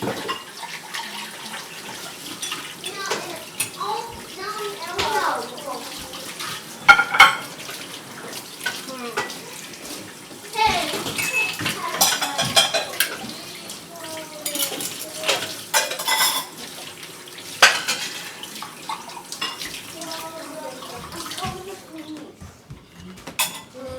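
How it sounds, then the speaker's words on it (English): Dishes are washed by hand in a home kitchen sink under running tap water, with steady splashing and repeated clinks of plates, pots and cutlery close by, and occasional talk in the background. "as we use dishes, we just wash them right away"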